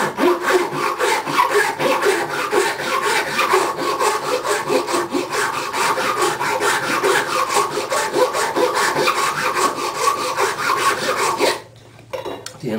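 A hand file worked back and forth across wood, a steady, rhythmic rasping of rapid strokes, close and loud, that stops abruptly near the end.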